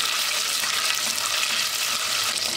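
Butter melting with a spoonful of tomato paste sizzles in a pan while making tarhana soup, a steady, close hiss of frying that runs evenly throughout with no voices.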